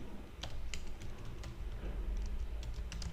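Quick, light clicks of someone typing an SQL query on a computer keyboard, close and soft, with irregular keystrokes over low background hum.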